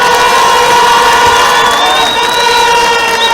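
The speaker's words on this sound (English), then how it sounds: "Give them a round of applause, please." Crowd at an outdoor evening political public meeting on a town promenade, loud continuous cheering and clapping from many people, a dense roar with whistles and shouts over it, close and saturated throughout.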